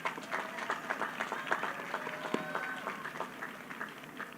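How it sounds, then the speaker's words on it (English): A commencement audience claps for a student speaker, a scattered, faint patter of hands with uneven rhythm from a moderately distant crowd. "I guess we'll clap at each one"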